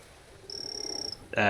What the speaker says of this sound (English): Poison dart frogs, which we don't want just yet.